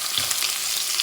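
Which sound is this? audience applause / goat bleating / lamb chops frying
lamb chops frying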